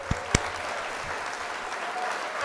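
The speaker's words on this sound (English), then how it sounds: "I'll give that a round of applause" Steady applause runs at moderate level, a dense wash of clapping, with two sharp thumps near the start and a low hum underneath.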